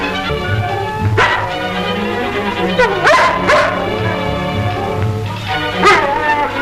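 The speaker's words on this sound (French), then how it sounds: "Le chien de Manu?" A dog barks and yelps several times at moderate distance, with irregular bursts over a steady low hum and background noise.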